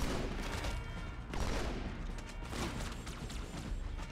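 Rapid bursts of gunfire from the video game Halo 2, a dense, continuous battle barrage that stays loud and close throughout with no talking over it.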